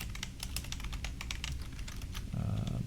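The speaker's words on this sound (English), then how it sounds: "let me just type this all out real quick" Fast, steady clatter of typing on a computer keyboard, close and continuous for a few seconds with a slight low hum toward the end, no one speaking.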